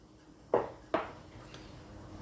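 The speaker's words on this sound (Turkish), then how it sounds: "Önce yumurtayı çırparak başlıyorum." Two eggs being whisked in a bowl: two sharp clinks of a utensil against the bowl, then a faint third tap, in an otherwise quiet kitchen with no talking.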